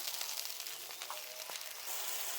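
Garlic and onions frying in a pan while being stirred, a soft steady sizzle with a few faint clinks and scrapes of the stirring, quiet and close.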